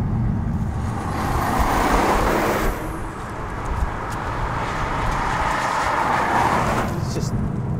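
An Alpina D4 Biturbo diesel car accelerating hard, its steady loud engine and road roar swelling and easing as it pulls away, with a brief dip midway.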